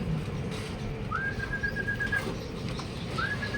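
A racing pigeon arrives at the loft during club training in Calauag, Quezon, giving a soft drawn-out whistling call, repeated once more after a pause, over a steady outdoor background hum.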